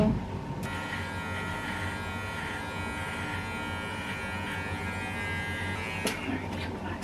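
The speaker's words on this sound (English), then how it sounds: "we're shaving your whole face?" Continuous buzz of an electric shaver running over a man's face, steady and fairly close with slight shifts in pitch as it moves, a brief click near the end.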